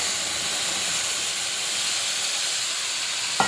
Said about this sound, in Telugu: వంకాయలు వేసి బాగా తిప్పుకోవాలండి.